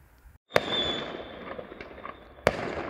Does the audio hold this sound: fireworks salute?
yes